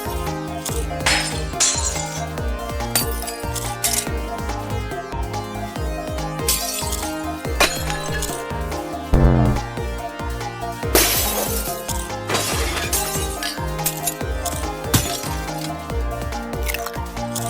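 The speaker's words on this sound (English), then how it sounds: "killing them was kind of like breaking dishes or windows or maybe glass bugs" Repeated glassy shattering and clinking crashes burst over a busy, steady music track in a modded Minecraft game, several breaks in quick succession.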